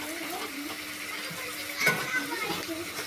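Food sautéing in a pan in a home kitchen as it is stirred, a low steady sizzle with soft scraping, and one brief louder clatter midway.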